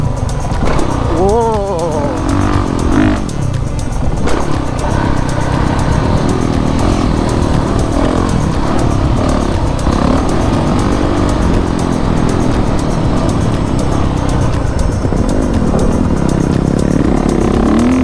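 A 450 dirt bike engine running steadily while riding on a trail near a track, a loud continuous engine roar with wind noise throughout, a rider's voice heard over it.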